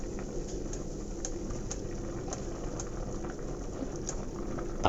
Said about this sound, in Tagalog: hintayin na naman natin kumulo. Ayan, kumulo na.